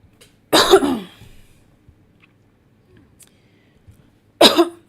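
Two loud, harsh coughs, a few seconds apart, with near silence between them.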